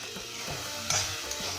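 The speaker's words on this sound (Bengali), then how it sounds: "নাড়তে থাকবো, না হলে নিচে লেগে যাবে, পুড়ে যাবে জিনিসটা।" Peas and mixed vegetables frying in a pan for a vegetarian drumstick-flower dish, with a steady close sizzle and several scraping stir strokes of the spatula, no talking.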